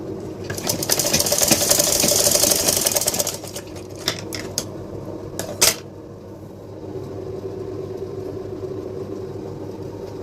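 A sewing machine stitches lining fabric for a lehenga blouse in a steady whirring run. It slows and stops, then gives a few short bursts and clicks over a low constant hum.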